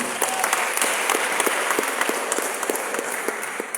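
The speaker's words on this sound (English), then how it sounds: "Please let me clap for him." Audience applause in a hall at a Society of Women Accountants of Nigeria event, steady dense clapping filling the whole stretch at a fairly close, even level with no talk over it.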